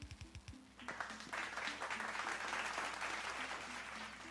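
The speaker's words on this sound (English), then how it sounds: "Applause is always well appreciated" A few sharp claps open, then a crowd breaks into sustained applause, fairly distant, with a faint voice underneath.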